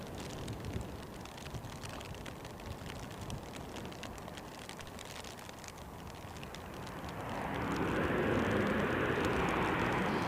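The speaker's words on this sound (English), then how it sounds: "Ryanair's coming in from Brussels." A Ryanair airliner arriving from Brussels at Edinburgh Airport gives a faint, distant rumble mixed with wind and rain noise, swelling into a louder engine roar over the final few seconds.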